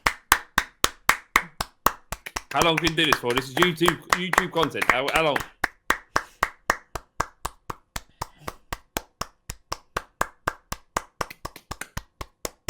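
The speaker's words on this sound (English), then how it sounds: "Keep clapping." A small group of people clapping on a football podcast, with sharp, evenly spaced claps in a steady rhythm, close and loud; a burst of laughing and shouting breaks in partway, and voices speak over the claps.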